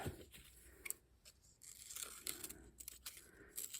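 Scissors cut out paper word stickers with a series of faint, close snips and light paper rustles in a quiet room.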